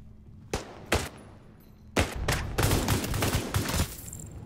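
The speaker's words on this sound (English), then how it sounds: "Shooting me around the corner there." Gunfire in The Division 2: two isolated shots ring out, then a dense, rapid burst of automatic fire with sharp, loud reports close by.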